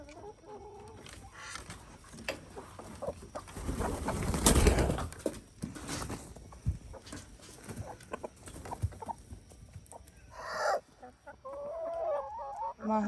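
Backyard chickens with a rooster and hens clucking and calling, waiting to be let out of their coop, with repeated bursts of cackling near and far and a voice occasionally heard amid the birds.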